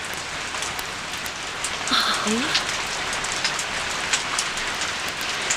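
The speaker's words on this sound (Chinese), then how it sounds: "下雨了，先生，快躲雨去吧。" Steady rain pours down with a dense, even hiss and patter that lasts throughout. A voice briefly exclaims partway through.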